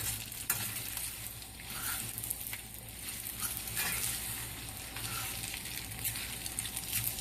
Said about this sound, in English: Give it a quick mix around.